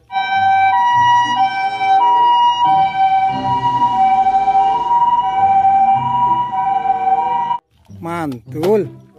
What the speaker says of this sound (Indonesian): Lihat, ada mobil ambulan